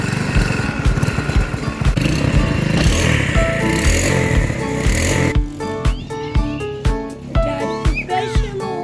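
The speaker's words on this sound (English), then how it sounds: "We got the go-kart or Dune Buggy running." A Coleman BK 150 dune buggy engine runs with a steady, buzzing motor drone that continues throughout, holding a fairly constant throttle, with faint background voices and activity audible around it.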